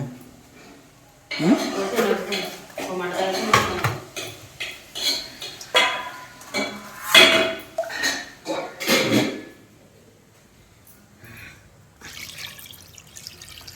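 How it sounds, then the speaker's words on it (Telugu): Chicken meat being washed in a vessel at home: water splashing and sloshing with clinks of the metal pot in bursts, then dripping, while people talk nearby. "మాసం కడిగిన నీళ్ళు"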